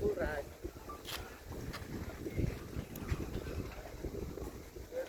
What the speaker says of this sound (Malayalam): കാറ്റ് നന്നായി അടിച്ചുകൊണ്ടിരിക്കുന്നുണ്ട്.